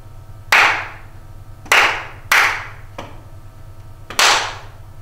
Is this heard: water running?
no